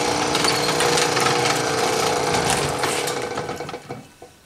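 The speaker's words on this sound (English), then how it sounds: "I'm drilling the holes in the upper adjuster mounting plate and the plate that's going to go on the C-frame" A drill bores holes through steel mounting plates for a scrap-metal English wheel build, a loud continuous grinding whine that tapers off toward the end.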